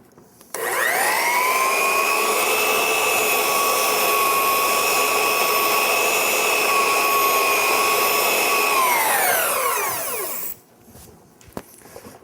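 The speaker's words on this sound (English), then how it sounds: "with just a kiss or two on top of that stick, I can very, very easily clean the belt" A belt sander runs with a loud, steady high-pitched whine and gritty scraping as an abrasive cleaning stick is pressed to the belt, then winds down and stops.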